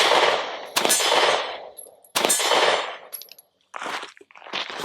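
Sig P365 XL pistol firing 124 grain ammunition, with the slide failing to return fully into battery; two sharp, loud close shots about a second and a half apart, followed by fainter metallic clicks and handling noises.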